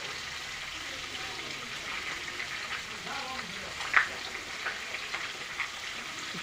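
Fish frying in a pan gives a steady, moderate sizzle that hisses on without pause, with a brief sharper pop midway and faint background sounds.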